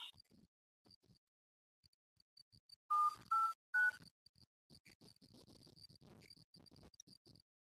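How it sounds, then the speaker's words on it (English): Telephone keypad dialing: three short, clear tones in quick succession over a quiet background of chirping crickets and faint rustling. "Let me try to call Susie on the phone."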